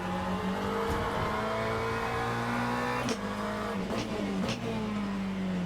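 A race car in a racing video game drones at high revs, a steady loud engine note with brief shifts and short tyre squeals as it works through a corner, no talk over it.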